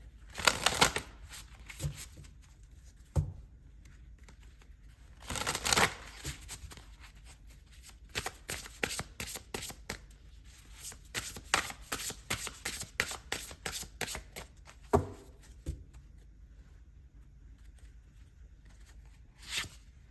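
A deck of oracle cards is shuffled for a reading in a long run of crisp riffles and flutters. Bursts come close together, then thin out into scattered slaps and pauses.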